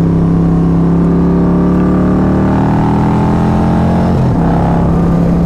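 A Harley-Davidson Low Rider ST motorcycle engine runs close and very loud, a deep, rumbling idle with a brief blip of revs near the end, steady and unbroken by speech.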